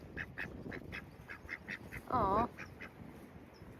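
Ducks near a shoreline village quack in a run of short, evenly spaced calls, fairly close, while a voice briefly coos over them.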